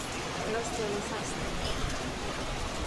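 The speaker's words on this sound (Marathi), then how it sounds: "चला पाऊस येतो पाऊस" Heavy rain pouring down, a dense, steady wash of broadband hiss without pause, fairly faint and distant, with a voice faintly audible underneath.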